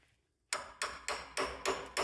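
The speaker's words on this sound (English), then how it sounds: "So I will try it with a hammer first." A hammer strikes the front suspension control arm of a 1994 Chevy K1500 five times in a steady rhythm, each sharp metallic blow close and loud after a brief quiet start.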